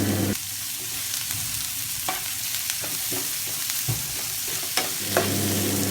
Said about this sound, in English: So fry the onions until it gets to a golden brown color